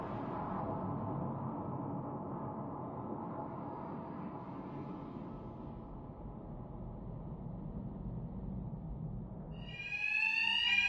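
Alarm ringing in the Batman: Arkham Knight video game, a continuous droning wash that holds steady for about ten seconds before a sharper, bright rising tone cuts in near the end; no speech.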